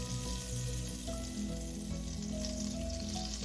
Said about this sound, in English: Cooking some asparagus. I'm starting off with some butter and some olive oil here.